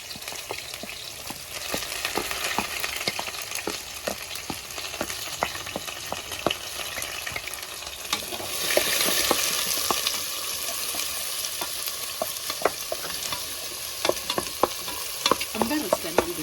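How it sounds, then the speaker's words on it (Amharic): Red onion frying in oil in a pan while being stirred for Ethiopian chechebsa, a continuous close hiss of sizzling with frequent light scraping clicks from the spoon that grow slightly louder midway, no talk. "አሁን ቀይ ሽንኩርት ዲስቴን ዘይትን አስነሳዋለሁ።"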